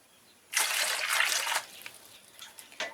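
Elephant apples (chalta) are rinsed under running water: a strong gush of water for about a second, then scattered trickles and drips as the fruit is handled.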